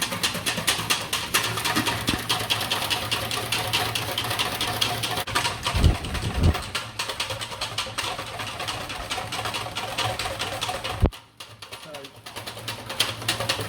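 Double cream is whisked to soft peaks with a fast, steady whirring rattle that runs nearly throughout and stops abruptly near the end, with some talk mixed in.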